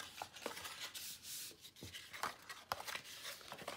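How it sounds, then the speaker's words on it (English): Paper score lines on a gift box being burnished by hand: soft, close rubbing and scraping strokes in an irregular rhythm, punctuated by a few light taps, quiet and alone. "Now we're going to burnish all of this."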